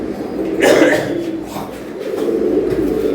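Low, throaty coos of domestic pigeons, including red and yellow Gorra and Pakistani Teddy breeds, rumble in a muffled steady murmur, with a louder swell early on; no clear talk.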